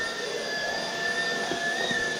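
A Xiaomi Jimmy JV51 handheld cordless vacuum cleaner runs with a steady high-pitched motor whine and airy rush, close and continuous, with faint thumps of movement and no speech.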